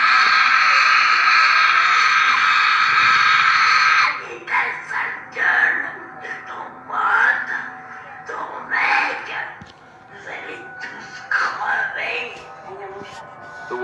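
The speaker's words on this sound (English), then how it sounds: "a woman in the next bed was roaring and screeching with the voice of a devil" A woman in a hospital bed roars and screeches in a raspy, devilish voice: a long, loud, sustained scream, then a run of strained, growling vocal outbursts, close and harsh.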